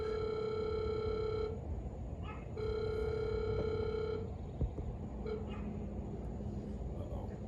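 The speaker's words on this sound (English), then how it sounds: "Got a phone call." An incoming call makes a telephone ring in repeated electronic bursts, two clear rings followed by fainter tones, over a low background hum while someone speaks quietly.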